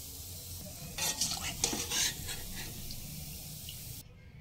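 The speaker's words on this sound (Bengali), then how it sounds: "ফ্লেম লো মিডিয়ামের মাঝামাঝি রেখেই ভেজে নিতে হবে।" Food frying in a pan over a gas flame set between low and medium, a soft steady sizzle with a few louder stirring scrapes in the middle before it cuts to near quiet at the end.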